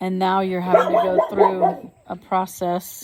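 A dog barks a few sharp times near the end, after steady talking that fills most of the clip.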